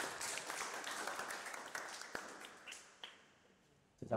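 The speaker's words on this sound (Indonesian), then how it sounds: "Kita kasih aplaus untuk kelompok 2." An audience applauding a group presentation at an Islamic study session, steady dense clapping that gradually thins and fades, with a brief fresh burst at the very end.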